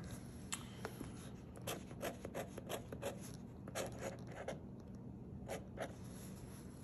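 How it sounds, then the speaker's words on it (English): A Namiki Aya Maki-e fountain pen with a medium fine nib writes on a soft note board, giving quiet, close scratchy strokes in short irregular bursts with brief pauses between them. "I'm writing on just it's like a note board that I write on a lot"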